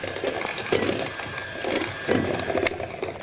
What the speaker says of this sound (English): Get that whisking.